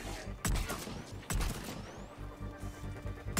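Gunfire from the Mass Effect 3 video game, several sharp loud shots in quick succession over a dense, rumbling battle soundscape.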